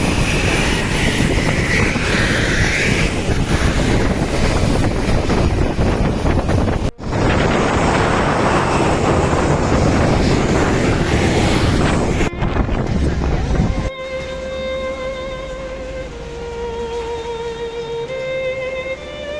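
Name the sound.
strong wind outside an airport after leaving the plane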